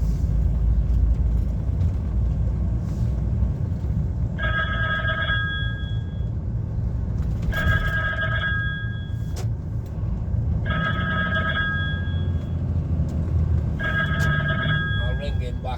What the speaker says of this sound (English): Twice he's tried ringing me now